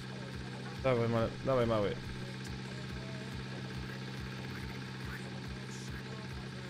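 A tractor engine in Farming Simulator 19 idles with a low, steady throb and regular rhythmic pulses, while someone speaks briefly near the start over it.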